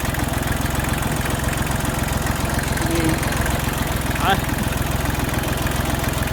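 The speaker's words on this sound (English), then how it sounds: "I'm really glad I got this little tractor." A small tractor engine runs close by on a farm with pigs, a steady, loud, chugging idle that continues throughout.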